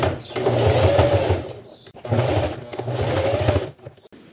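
A sewing machine backstitches the handle of an ecobag in two close, loud whirring runs, separated by a brief pause and ending in a short stop.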